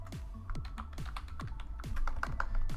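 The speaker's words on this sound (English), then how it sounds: "Let me just finish typing this." Typing on a computer keyboard indoors, a quick uneven run of close, crisp key taps that grows a little busier toward the end, with no voices.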